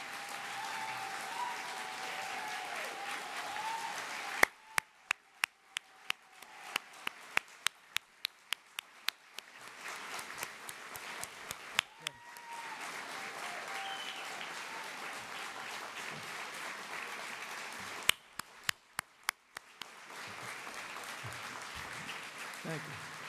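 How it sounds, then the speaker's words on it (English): Staff members at a board of directors gathering receive a long, steady round of applause that fills the room, broken by sharp clicks and several fades and swells, with faint voices underneath. "we should give them a very long round of applause"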